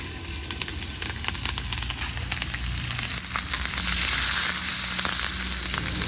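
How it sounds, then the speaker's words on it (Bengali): Bay leaf, dried red chilli and panch phoron sizzle loudly in hot oil as tempering for kalai dal, a dense continuous crackle with small popping spurts that swells slightly midway, heard up close with no voices. "কলাইয়ের ডালের জন্য ফোড়নে দিচ্ছি তেজপাতা শুকনো লঙ্কা আর পাঁচফোড়ন"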